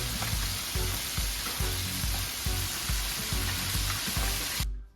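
Chicken pieces frying in hot oil for barbecue fried chicken, a steady loud sizzle with rhythmic pulses as pieces are moved or added, cutting off abruptly at the end.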